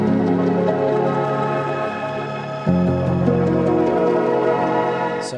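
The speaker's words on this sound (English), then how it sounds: "All right, so I found this piano." Piano chords ringing with a soft, sustained tone, a new chord struck about halfway through, played alone.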